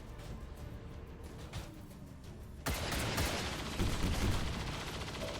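Micro missiles launch in the video game XCOM 2, a sudden loud blast that cuts in after a quieter stretch and rolls on as a sustained, crackling explosive rumble.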